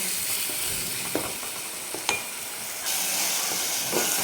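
Onion, tomato and masala sautéing in oil for a green moong dal dish, a steady close sizzle with a few sharp scraping stirs, and the hiss growing louder partway through.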